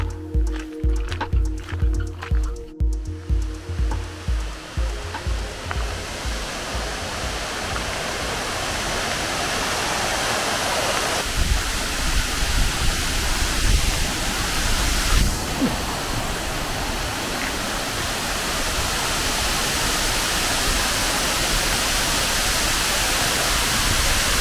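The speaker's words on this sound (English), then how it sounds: "This is the Lower South Falls, 93 feet. It is the 9th waterfall for us today." Lower South Falls, a 93-foot waterfall at Silver Falls in Oregon, roars as a steady, dense rush of falling water, loud and close. Rhythmic footsteps thump at the start before the cascade fills everything.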